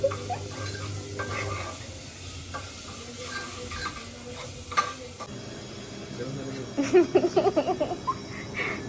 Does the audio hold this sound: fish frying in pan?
yes